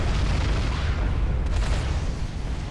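An energy storage structure explodes in the real-time strategy game Supreme Commander: Forged Alliance, a loud, sustained roaring blast that is thick with low rumble and shows a sharper burst midway.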